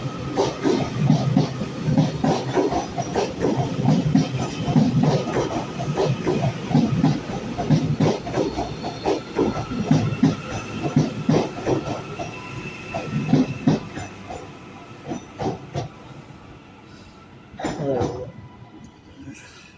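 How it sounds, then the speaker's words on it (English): A Class 397 TransPennine Express train runs from Manchester Airport to Edinburgh Waverley through Carlisle on the West Coast Main Line. It passes close and loud, with a continuous rumble, rhythmic wheel clatter and hiss, then fades toward the end. "Transcontinental Express service from Manchester Airport to Edinburgh Waverley with one of the 397 sets"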